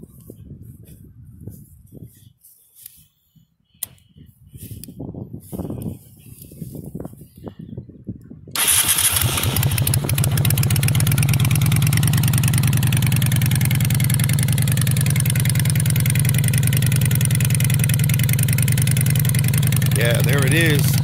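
A 1996 VLX bobber motorcycle with a root beer peanut tank, heard after some quieter handling noises and talk. The engine catches suddenly and settles into a loud, steady, deep idle with light revving, close by.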